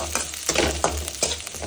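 Mustard seeds, chopped garlic and cumin stirred in hot oil, giving a soft sizzle broken by four regular scraping strokes of a spoon against the pan.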